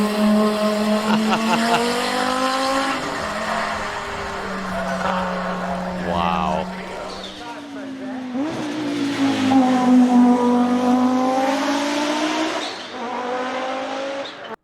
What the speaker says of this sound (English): They switched to Imsa to race its dominant 90 Quattro, sporting a 720 horsepower turbocharged i5.